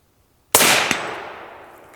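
A single loud, sharp rifle shot at targets outdoors, cracking suddenly out of near silence, with a quick echo and a long fading tail.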